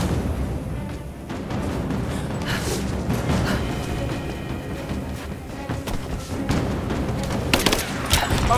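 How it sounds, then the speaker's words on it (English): In Rise of the Tomb Raider on PC, a grenade blast mixes with heavy gunfire. The battle noise is dense and loud throughout, with rapid sharp cracks and bangs and no clear pause. "Grenade out!"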